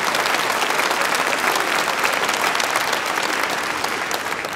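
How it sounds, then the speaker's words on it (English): A large concert audience at the Brighton Centre in 1977 claps together in a loud, sustained roar of many hands. The applause holds steady and eases off slightly near the end, with no talk over it. "I think this city certainly deserves a round of applause for such a fine place to have meetings in"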